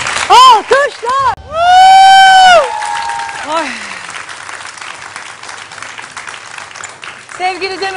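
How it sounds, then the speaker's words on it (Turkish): Studio audience at a Turkish television talk show applauding continuously under loud whoops and shrill cheering at the start, the clapping carrying on at a steady level afterward. "Alkışlar."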